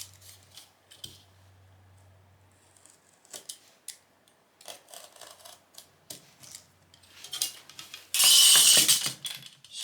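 Leather is cut for home-made Triumph TR6 car seats: a series of close, irregular snips and crunches build up into a loud, continuous rasping cut near the end.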